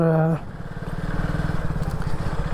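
A motorcycle with a minor mechanical fault rides along on a Sunday outing, its engine running with an even, throbbing pulse after a brief spoken word at the start.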